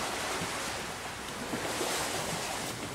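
Ocean waves wash continuously in a steady broadband roar at the shore with wind noise, loud and close, and no talking.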